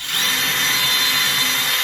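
A power drill bores a shallow pilot hole, about a quarter inch deep, into wood for a concealed cabinet hinge screw, giving a steady, close, high-pitched whine that runs unbroken for the full two seconds.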